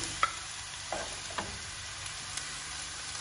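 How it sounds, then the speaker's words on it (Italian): Squeezed mushrooms and cherry tomatoes with rosemary sauté in a pan for moscardini alla genovese. A faint, steady sizzle runs throughout, broken by a few sharp clicks and scrapes of stirring. "Facciamo saltare il tutto per 5-6 minuti e poi mettiamo i moscardini."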